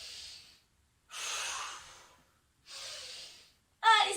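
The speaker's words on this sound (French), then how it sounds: "J'inspire très fort. J'expire." Deep breathing during a children's yoga session, with three long breaths in and out separated by short pauses, close and clear, followed by a brief burst of voice at the end.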